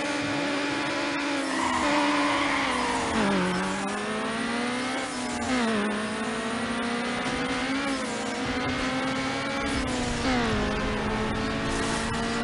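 Car engine in Need for Speed Underground droning steadily with rising and falling revs, pitch dipping and climbing again as gears shift, loud and continuous throughout with no talk.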